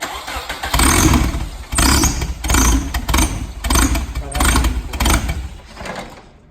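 Small engine fitted with a cheap, quickly built turbo kit, running loud and close in a series of rough revving bursts and pulses, with brief voices in the background.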